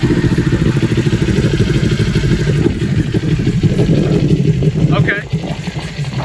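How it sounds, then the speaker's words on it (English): A Kawasaki Ninja 400 motorcycle engine cranks, catches and settles into a steady, close, clattering idle that dips near the end, with a voice speaking over it. "And then to start it, here's the starter."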